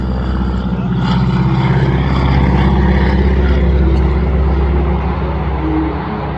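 A PT-17 biplane's engine drones loud and close as the aircraft flies a loop during a wing-walking airshow, the propeller roar swelling and then easing slightly.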